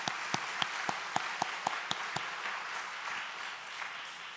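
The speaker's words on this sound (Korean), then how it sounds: "하나님 영광 박수 한번 돌려볼까요?" Applause from a congregation at a Friday night church service starts as a rhythmic run of distinct claps, then blends into a softer, sustained wash of clapping, heard faintly and at a distance.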